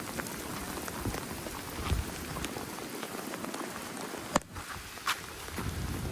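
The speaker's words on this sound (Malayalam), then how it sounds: "മഴ ഇങ്ങനെ ചാറി വരുന്നുണ്ട്." Light rain patters steadily outdoors at Kottapara Hills in Pathanamthitta, a soft continuous drizzle with scattered drops and a couple of sharper taps.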